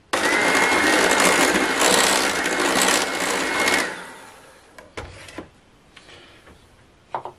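An electric mixer whirs loudly and steadily through vasilopita batter with cinnamon, clove and vanilla, then stops abruptly, followed by a few clatters and knocks of the bowl and beaters.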